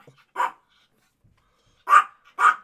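A dog barks three times indoors, one short bark followed after a pause by two close, fairly loud barks, with near silence between them.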